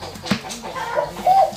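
A hen clucks and cackles a few times in a rural outdoor setting, with the squawks growing louder and rising toward the end, over faint background voices.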